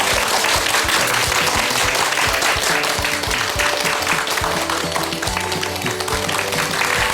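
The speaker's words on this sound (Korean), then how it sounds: "박수가 엄청 기네요" A large audience at a Buddhist monk's lecture gives sustained, dense applause that keeps going without a break, loud and full, with a low hum of music or room noise underneath.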